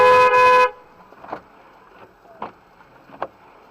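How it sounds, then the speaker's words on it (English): One short, loud car horn blast opens, then quiet background with faint scattered clicks and soft taps. "That is the worst honk I ever seen."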